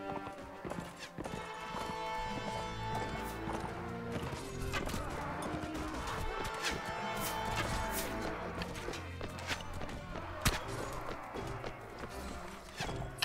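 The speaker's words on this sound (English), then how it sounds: "Keep up with my horse here." Horse hooves gallop in the Mount and Blade Warband video game, a steady clip-clop running under a dense, loud mix of battle noise and game sound throughout.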